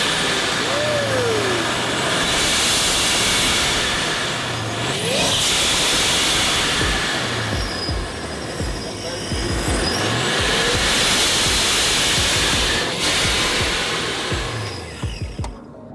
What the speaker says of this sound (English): Prochargers sound amazing.